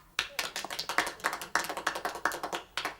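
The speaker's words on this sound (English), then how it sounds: "I think that deserves a little clap" A small group of men in a 1970s British sitcom scene gives a little round of clapping, a few hands beating unevenly and fairly close for about three seconds.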